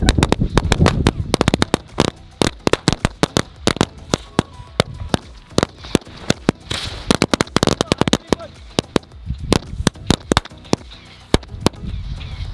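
Sivakasi Angry Birds firecrackers burst in a rapid, irregular string of loud, sharp cracks and pops for several seconds, close and crackling like gunfire.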